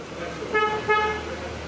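Two short horn chirps from a used Maruti Dzire or Celerio at a Kharagpur used-car lot, sounding as it is unlocked with its key, close by with a voice talking around them.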